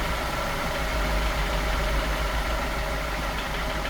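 A damaged engine with bottom-end wear idles steadily, close and loud, a continuous low rumble with faint repetitive knocking running through it.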